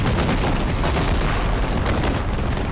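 Dense crackling bursts and pops of fireworks fire continuously like a barrage of firecrackers, loud and close, with no pause.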